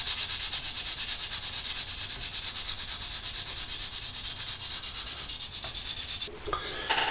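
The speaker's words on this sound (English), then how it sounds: "we're just literally going to sand these off" Plastic parts of a Hasegawa 1/48 F-4J Phantom model kit being sanded down in steady, rapid back-and-forth strokes, loud and close, before a brief pause and a few shifting handling noises at the very end.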